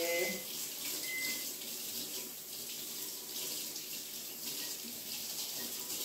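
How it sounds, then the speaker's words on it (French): A whisk rinsed under cold running tap water at a kitchen sink, a steady close rush of water streaming on and off the metal wires throughout. "je le lave en le passant sous l'eau froide, bien sûr"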